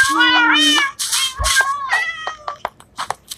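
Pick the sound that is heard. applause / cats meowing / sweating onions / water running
cats meowing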